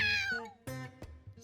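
A cat gives a clear, drawn-out meow followed by a couple of shorter chirping mews, close by and alone with no talking.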